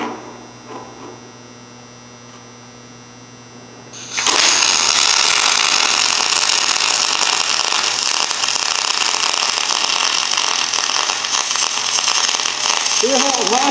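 A MIG welding machine fitted with a spool gun starts after a few seconds of low mains hum, then gives a loud, steady, crackling hiss that continues to the end, close by.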